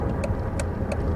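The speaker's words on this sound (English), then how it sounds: "the first activation of the right turn signal after an engine start results in a single chime being emitted from the dash" Dodge Avenger interior with the engine idling beneath three evenly spaced, short dashboard ticks from the turn signal, clear over the low steady rumble.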